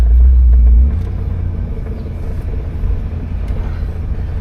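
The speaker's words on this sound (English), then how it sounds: "As soon as I'm hitting the gas, she's going, so you guys can hear it." A 1975 Oldsmobile Delta 88 engine is revved hard with a loud, deep roar that settles after a second into a steady, heavy rumble close by.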